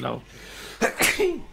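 A single short sneeze during a Minecraft let's play session, followed by a brief spoken word.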